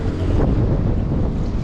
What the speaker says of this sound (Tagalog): Lakas lang po ng hangin.